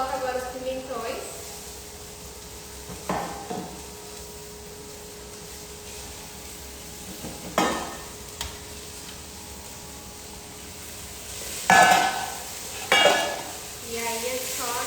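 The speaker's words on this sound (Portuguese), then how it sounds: "E aí é só a gente deixar ele refogar bem." Red onion and bell peppers sautéing in a pan, a steady low sizzle running throughout with occasional utensil scrapes and stirring clatters, while a person talks over it.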